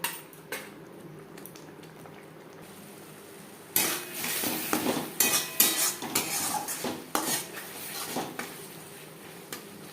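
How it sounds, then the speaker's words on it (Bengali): Spice paste for a silver carp fish curry cooked down in a pan over a medium-low flame, quiet at first, then clattering spoon scrapes and knocks against the pan over a soft sizzle. "মিডিয়াম টু লো ফ্লেমে 4-5 মিনিট মশলা কষিয়ে নেব।"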